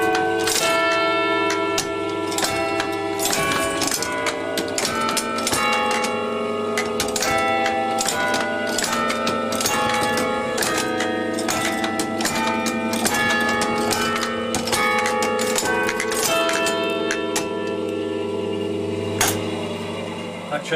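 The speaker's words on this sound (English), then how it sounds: "When the carilling's playing, the bells sound absolutely fantastic." Church bells of a carillon in Witney, driven by a repaired clock mechanism, ring out a melodic sequence of struck tones alongside mechanical ticking and clunking of the works, loud and close throughout.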